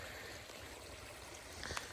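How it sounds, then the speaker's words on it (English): A small stream of flowing water on the Appalachian Trail, a steady broadband rush and trickle heard close by and alone, with a slightly louder splash near the end. "Got a nice little flow here, and we can fill up the water and do some filtering."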